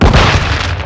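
In the Call of Duty video game, a flash grenade detonates with a loud, heavy burst. The booming roar stays strong through the whole short moment, with no voices over it.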